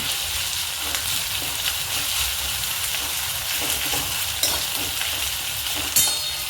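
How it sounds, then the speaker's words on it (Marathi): Onions sautéing in a pan until reddish-brown, a continuous loud sizzle with occasional scraping stirs of a spoon, no talking. "कांदा चांगला लाल होईपर्यंत परतायचा"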